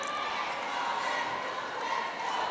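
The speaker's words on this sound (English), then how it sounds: "F2 faithful cheering on their team" Volleyball fans in an arena during a 2023 PVL Invitational semifinal keep up a steady, loud crowd roar, a dense wash of cheering that stays even throughout the short stretch.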